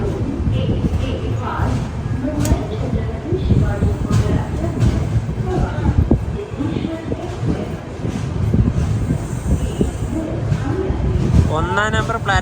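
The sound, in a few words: Siddheshwar Express train at Solapur station platform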